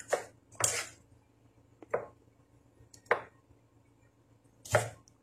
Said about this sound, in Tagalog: Galit na galit habang naghihiwa ng patatas.